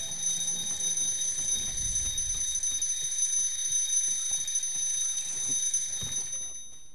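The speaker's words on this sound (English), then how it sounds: "there goes our timer" A timer alarm rings steadily from Ghost of Tsushima, a bright repeating electronic beeping tone that runs continuously for several seconds before fading slightly at the end, with faint game ambience underneath.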